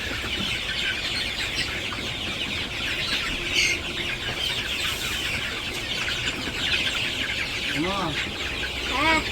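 Village chickens cluck and call around a farmyard, with repeated short clucks rising over a steady rustling background and a voice speaking in between.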